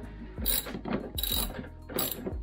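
A ratchet on a long chain of extensions loosens a radiator bolt on a Range Rover Sport L320, giving three quick rasping bursts of clicks close by, with short pauses between strokes and no talk.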